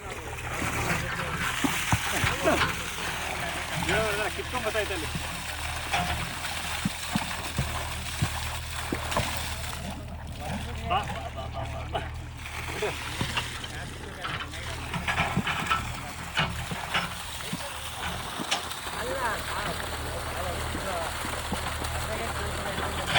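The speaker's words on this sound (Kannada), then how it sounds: "ಎರಡು ಇಂಚ್ ಪೈಪು ಫುಲ್ ಫೋರ್ಸ್ ನೀರು ಐತೆ." Water gushing at full force from a two-inch pipe on a coconut farm, a steady loud rushing and splashing that runs continuously through the whole stretch.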